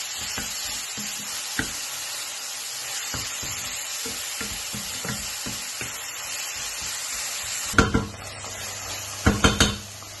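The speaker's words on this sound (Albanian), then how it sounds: "E përzijem derisa mishi I grirë të marri atë ngjyrën kaf." Minced beef fries in a pan for stuffed peppers, sizzling steadily while a utensil taps and scrapes through it, ending with a few louder clanks against the pan.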